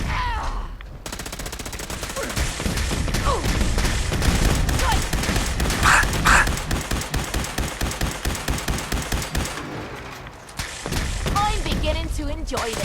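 Gatling laser firing in Fallout 4, a long sustained burst of rapid rhythmic zapping shots that pulse steadily for several seconds, with a character's voice talking over parts of the barrage.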